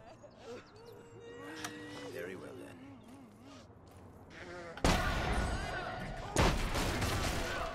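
Gunfire in the video game The Saboteur, with a couple of sharp, loud shots cutting in over game music, dialogue and talking.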